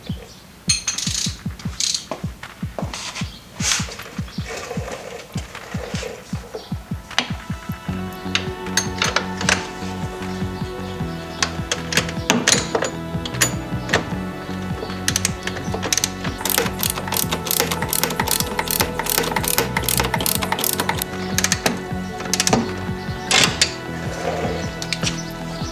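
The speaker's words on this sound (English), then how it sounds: "All that's left to do now is to torque them up to 37 foot-pounds." Ratcheting clicks from a torque wrench tightening the A-arm brace bolts on a 2015 Polaris Scrambler, a rapid close metallic clatter at first, then denser layered ticking and ringing mechanical tones running steadily throughout.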